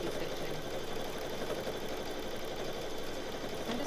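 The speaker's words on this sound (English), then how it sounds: "as you can hear, the machine really is particularly quiet. It's the motor on here. It sounds lovely when you're actually stitching." A Brother Luminaire Innovis XP1 sewing machine runs its motor while stitching, giving a steady, even mechanical hum with a soft rapid needle patter, continuous and fairly quiet.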